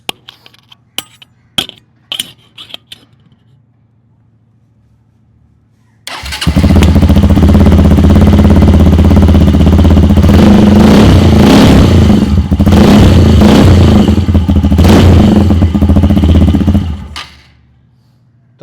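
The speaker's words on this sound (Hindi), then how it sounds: "एग्जॉस्ट की बात हो रही है तो मैं तुम्हें इसकी आवाज़ सुना देता हूँ एक बार।" A KTM Xpulse motorcycle with a Hogo aftermarket exhaust starts after a few clicks and clunks, then roars loudly up close with repeated revs for about ten seconds before shutting off.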